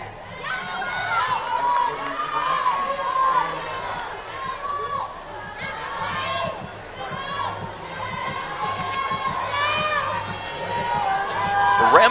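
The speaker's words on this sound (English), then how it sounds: "A rambunctious crowd." A lively crowd at a college softball game between Liberty and North Carolina, a continuous murmur of cheering and chatter with voices rising and falling at a distance throughout.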